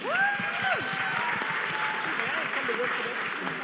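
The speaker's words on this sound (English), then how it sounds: "Y'all clap it up for Shanae." An audience claps loudly and steadily in a room for a guest named Shanae, the applause sustained throughout, with a few voices calling out over it.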